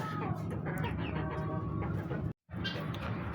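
An active rooster on a small poultry farm clucks steadily amid other chicken sounds, a dense, continuous barnyard chatter with one brief dropout.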